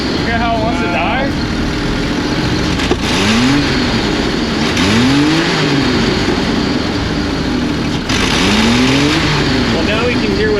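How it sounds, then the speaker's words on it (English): A 1994 Jeep XJ 4.0 engine runs with no exhaust fitted, giving a loud, raw, close roar that rises and falls in repeated revs while a voice talks over it. "Now we can hear what the engine's doing."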